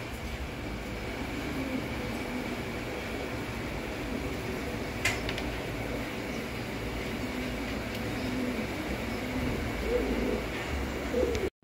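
White Danish Tumbler pigeons coo softly against a constant noisy background hum in a loft setting. The calls are faint and partly masked throughout.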